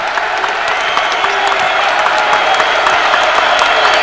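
Basketball arena crowd at a 2007 NIT first-round game, Providence Friars at Bradley Braves, applauding and cheering in a loud, dense, sustained roar with scattered claps throughout.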